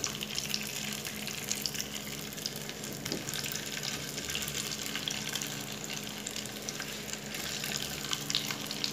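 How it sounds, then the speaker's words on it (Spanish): Sausages fry in oil in a pan, a dense, even close sizzle running steadily throughout with faint spatters and no talk. "Y aquí vamos a freír las salchichas"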